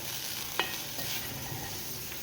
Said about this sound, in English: So we have put the dal in the tomato mixture, and we are going to mix it up.